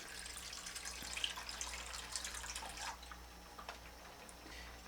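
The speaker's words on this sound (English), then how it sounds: "I'm going to fill it up with some water." Water runs from a tap into a cooking pot on a stovetop, a faint steady splashing stream with small drips and clinks, quiet and alone without speech.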